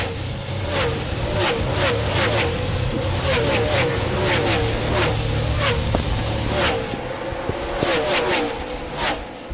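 NASCAR Truck Series race trucks roar around Bristol's short oval, a loud continuous engine drone with repeated sharp passes as trucks sweep by close together, while commentators talk over it.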